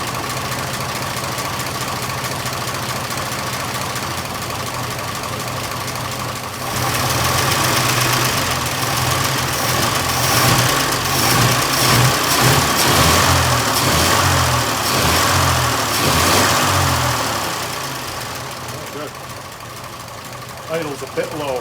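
An antique car engine idles a little low with a steady, slightly knocking rumble. It swells louder and rougher through the middle, then settles back to a lower idle.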